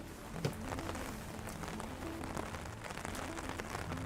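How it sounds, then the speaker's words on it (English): Steady rain pours inside the enclosed Biosphere 2 rainforest, a dense continuous patter of drops on leaves and surfaces with no voices, even and moderately loud throughout. "the rain that's starting to come down right now"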